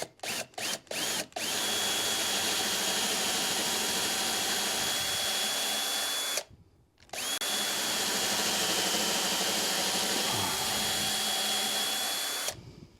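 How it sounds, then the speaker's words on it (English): A power drill in low gear whirs steadily after a few quick trigger taps on a wood project, stops briefly, then runs again at a constant pitch before cutting off. "I go with the low gear, gear number 1 on my drill"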